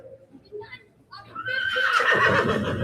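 At a horse and mule auction in Moffett, Oklahoma, a fifteen-year-old one-eyed horse gives a loud, shaky whinny that rises and holds near the end, after moments of low voices and quiet shuffling.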